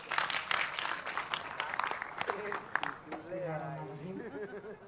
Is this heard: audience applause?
yes